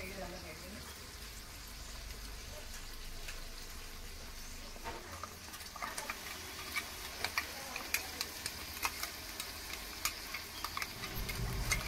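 Tomatoes for prawn biryani sauté in a pan with a soft, steady sizzle, later joined by quick, repeated ticking stirs and scrapes that grow busier toward the end.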